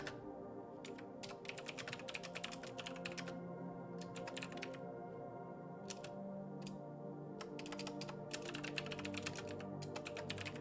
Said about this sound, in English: I can't type and talk.